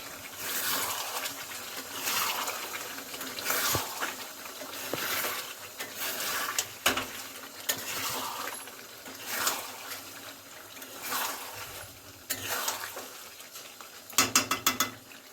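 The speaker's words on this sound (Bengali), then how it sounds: "তেলটা এসে গেছে তরকারিতে, তেলের উপরেই যে ওখানে একটু লাড়বো" Chicken curry being stirred in oil in a pot, a spoon scraping and clinking against the metal in repeated strokes over a low sizzle, close by with no talking.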